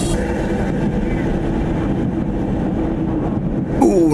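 A diesel railcar engine in a train simulator game, cruising around 30, runs as a steady, loud low rumble throughout. A brief sharper rise comes near the end.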